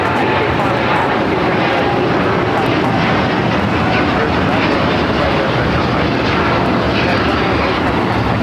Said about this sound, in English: taking off to Shanghai on the 787-9 Dreamliner